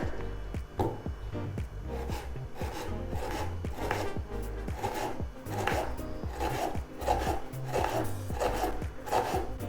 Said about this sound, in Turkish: Şimdi doğramaya geçelim.